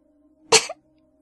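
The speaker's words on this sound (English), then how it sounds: "some pony coughed" A single short, sharp cough from a pony in the darkness, close and abrupt, over a faint steady hum, with near silence before and after.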